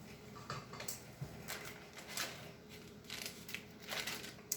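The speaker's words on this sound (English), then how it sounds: "I'm just going to rake this off of here, a little spoon, get it all in there." Small spoon scraping sweet pumpkin roll filling off a surface and into a baking pan, a series of soft, quiet scrapes and light metallic taps in a steady, uneven rhythm.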